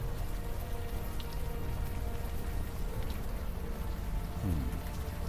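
Warm rain falls steadily in the Unavowed video game, a dense, constant hiss of drops spattering on surfaces, broad and unbroken, with a faint low swirl near the end.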